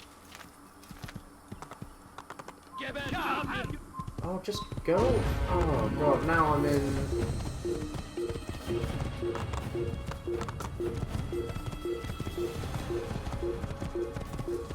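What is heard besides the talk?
horse hooves galloping in video game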